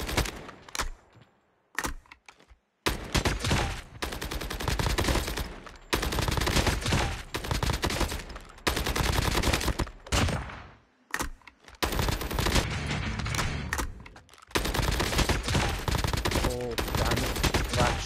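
KN44 rifle firing in a shooter video game, loud sustained bursts of rapid automatic fire broken by short pauses, with someone talking in between.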